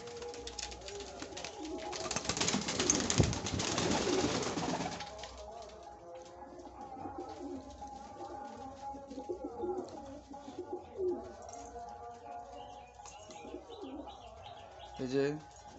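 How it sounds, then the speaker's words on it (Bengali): Pigeons coo repeatedly while pecking at puffed rice, with a loud burst of fluttering and scuffling early on, then softer cooing and scattered chirps close by. "এই যে পায়রাগুলো মুড়ি খাচ্ছে।"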